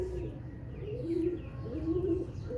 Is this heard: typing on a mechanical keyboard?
no